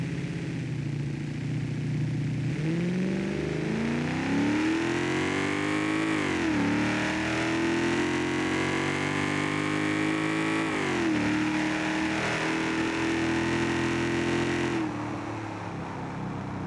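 A nitrous-fed car engine revs hard during a burnout in the BeamNG driving game, a continuous loud close drone whose pitch climbs, dips and climbs again over the whole stretch, with no talk over it.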